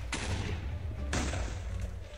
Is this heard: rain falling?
no